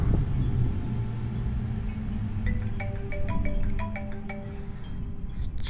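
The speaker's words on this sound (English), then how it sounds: "I'm getting a phone call." An incoming call ringtone from a phone plays a short series of bright, evenly spaced tones over a steady low rumble of game ambience, moderately loud and without talk.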